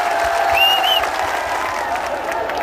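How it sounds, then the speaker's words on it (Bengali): Audience applause at the opening ceremony of a Meghna Bank branch in Mithapukur: steady, dense clapping from a crowd that keeps going for the whole stretch, with a faint whistle-like tone briefly riding over it. "তাদের জন্য প্রথম জোরে একটা করতালি চাই"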